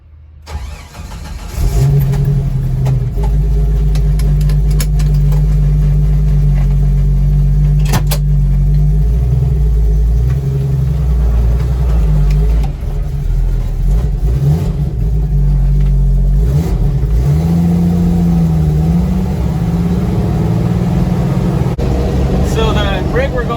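Engine of a custom Willys CJ-3B jeep running steadily while driving, a loud, constant low rumble with shifts in pitch as it moves, close and continuous, with talk faintly underneath.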